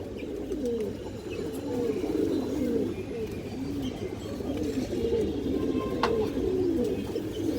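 Two large pigeons coo close by in soft, repeated throaty calls. The rolling coos overlap in an uneven rhythm, with a few faint chirps and clicks in the background.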